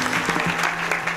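A brief burst of audience applause at a kirtan gathering, dense clapping filling the whole moment at close range.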